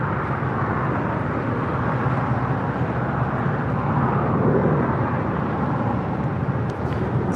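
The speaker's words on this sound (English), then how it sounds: "we just had a United Dreamliner touching down, coming in from Newark" A United Boeing 787-10 Dreamliner arriving from Newark touches down, a moderately loud, steady low engine rumble and rush that swells slightly midway and eases near the end.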